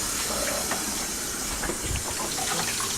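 Water rinsing seafood into a bag for a seafood boil, a continuous close hissing rush of flowing water with small splashes and clatters scattered through it.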